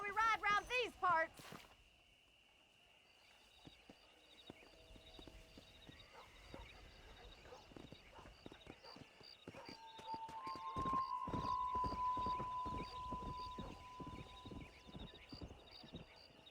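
Horse hooves clip-clop at a quickening pace in the Western game Red Dead Redemption, close and rhythmic and growing louder into a gallop, with a whinny near the start and people talking in the background.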